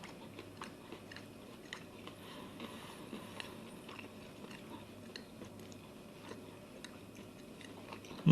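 Someone chews a bite of an apple cinnamon Cinnabon, a soft, close series of moist mouth clicks and faint chewing sounds, quiet and steady throughout.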